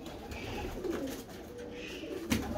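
Soft, low coos from Ferozpuri pigeons repeat steadily close by, with faint background rustle and no talking.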